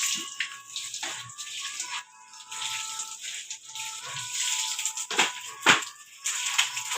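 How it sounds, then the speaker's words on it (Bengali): Running water splashes as hands and feet are washed, a steady close pour with intermittent splashes and drips, louder bursts near the end, with no talking. "আমরা সকলে হাত পা ধুবো,"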